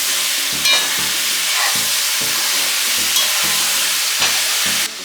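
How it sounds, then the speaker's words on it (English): Loud, steady sizzling as pork fries in a pot for Jamaican brown stew, with repeated scraping stirs cutting through the hiss at close range, and no voices. "I'm going to give the pork a turn."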